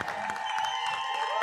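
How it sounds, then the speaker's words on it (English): A crowd at a women's flat track roller derby game applauds both teams with steady, dense clapping and some cheering, continuous and fairly loud throughout. "can we please, huge round of applause for these two teams"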